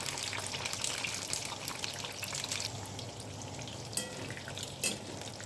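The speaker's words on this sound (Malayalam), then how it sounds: "നന്നായിട്ട് എണ്ണയിൽ ഇതുപോലെ വഴറ്റിയെടുക്കുക" About three-quarters of a kilo of green chillies sautéing in oil for chilli pickle makes a low, even sizzle and bubbling, with a couple of light clinks near the end.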